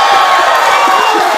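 A loud, dense live podcast audience cheering and whooping, with broadband clapping noise filling the clip throughout.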